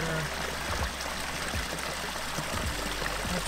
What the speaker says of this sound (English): this is the water feature I would love to show you